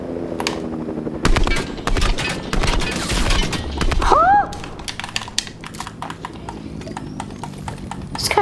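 Gunfire in the Fortnite video game, a dense string of sharp cracks and shots over a rumbling game background, a rising whistle-like tone partway through, loud and close with brief gaps between volleys.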